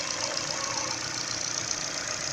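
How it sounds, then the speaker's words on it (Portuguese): A car engine idles with a noisy new Contitec timing belt, giving a continuous, even mechanical drone with faint rapid ticking, steady and moderately close with no talking. "Aqui é o barulho do motor."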